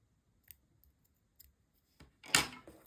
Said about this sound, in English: Now we can cut off the light pink yarn,